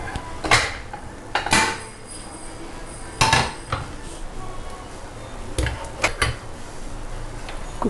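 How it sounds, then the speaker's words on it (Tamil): A pressure cooker is lifted out and set down in a home kitchen, giving a few sharp metallic clanks and knocks spaced over several seconds, close and fairly loud against a quiet background. "குக்கர் எடுத்து நான் ரெடியாக வச்சுக்கிறேன்."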